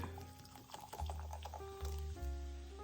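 Lemon lime soda pouring over an apple and crescent dump cake, a steady fizzy liquid stream with bubbling and patter, fairly close and alone for about three seconds.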